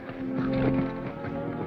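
Horses' hooves clip-clopping on the ground, a steady close rhythm of hoofbeats set within a busy 1938 film soundtrack with music or noise beneath.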